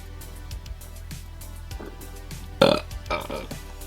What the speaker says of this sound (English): Burps.